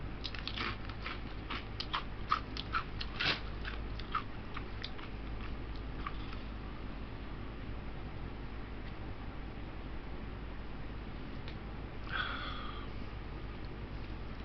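Crunchy Voodoo potato chips being bitten and chewed close to the microphone, a run of sharp crisp crunches early on that thin out into softer chewing and a sniff, over a quiet hiss with no talk.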